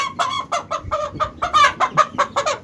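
Java hens, a home-kept breed about five to six months old, cluck in a rapid run of sharp, close calls, one after another at an uneven rhythm with no talk over them.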